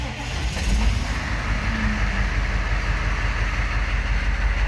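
A 1984 Chevrolet K20 diesel truck cranks and fires on a cold start, a steady, loud, rumbling churn with a rapid pulsing beat running throughout at close range.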